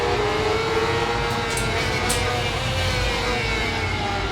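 A racing motorcycle engine on an Isle of Man TT ride revs loud and close after the clutch is released, a steady sustained drone with a slowly shifting pitch, accompanied by wind rush and no voices.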